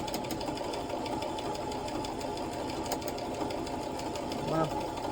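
A sewing machine stitches thread along elastic in a steady, continuous mechanical whir that runs loud and close throughout without pause, with a brief clunk near the end.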